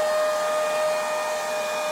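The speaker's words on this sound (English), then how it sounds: "when the bottom paint is dry, you use a hair dryer to speed up that process" A hair dryer blows on drying paint, giving a steady, continuous whine with a strong high tone that holds level from start to end, close by and with no speech over it.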